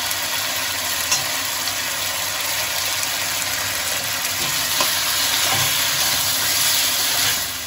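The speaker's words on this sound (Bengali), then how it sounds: "এবার এটাকে খুব ভালো করে একটু কষিয়ে নেব।" A paste of radhuni and fennel fries in a pan for a light fish curry, giving a steady loud hissing sizzle with faint stirring scrapes, no voices.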